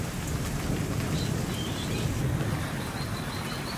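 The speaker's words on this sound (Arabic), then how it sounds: "وحبيت أشارك لكم هذا هاي الأمطار إذا بينكم واضحة" Steady rain pours down outdoors in a continuous, even wash of broadband hiss at moderate loudness, with no voices and only faint thin high tones above the downpour.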